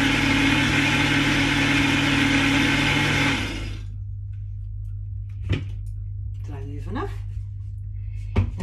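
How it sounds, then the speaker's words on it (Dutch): A blender whirs loudly and steadily while blending a thick smoothie with a leaf added, then shuts off after about three and a half seconds, leaving a low hum as someone talks. "Draai op de blender."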